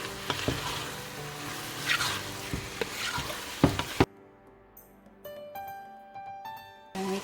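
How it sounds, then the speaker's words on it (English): Ground beef sizzling and frying in a pot for chili while a utensil stirs it with scraping clicks, then the sizzle drops to a quieter, thinner crackle with a few knocks. "we can go ahead and add our ground beef. Okay. Just give this a quick mix."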